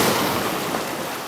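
Ocean waves wash and break against a rocky sea cliff, a loud, steady roar of surf with no voices over it.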